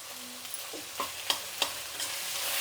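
Ginger garlic paste frying in a pan, a soft steady sizzle punctuated by several sharp utensil clicks and scrapes against the pan, close by with no speech.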